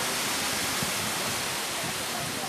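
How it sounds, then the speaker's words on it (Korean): Steady, broad rushing roar of Nine Dragon Falls in Huangshan, China, pouring down a vertical cliff, constant and fairly loud with no breaks. "아찔한 수직 절벽을 따라 쏟아지는 기세."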